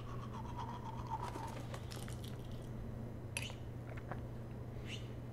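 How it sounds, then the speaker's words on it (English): Toothbrush scrubbing from the game Life is Strange, a few soft wet bristly strokes in short bursts over a steady low hum, fairly quiet with no talk. "Should I use a toothbrush?"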